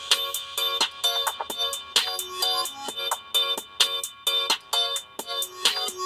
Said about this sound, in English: Here's a quick sample of the HP ProBook 630 G8's audio for you to take a listen for yourself.